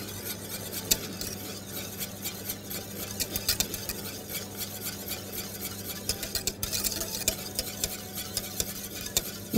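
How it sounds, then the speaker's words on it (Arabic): Steady scraping and light clinking of a spoon stirring sugar and egg yolks in a pot, continuous and close, with no talking. "نقلبهم ونرجعهم تاني على النار"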